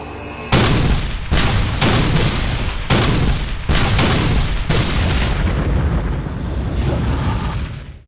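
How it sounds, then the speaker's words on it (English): A loud, rapid series of heavy booming blasts, one after another, rolling into a continuous thunderous roar of artillery cannon fire with no pause, as at Gettysburg. "The largest artillery barrage ever in North America is about to begin."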